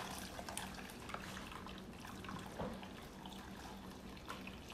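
Cooking water from boiled tomatoes, with two garlic cloves and a piece of onion, being poured into a blender, giving a steady watery trickle and splash for several seconds without talk.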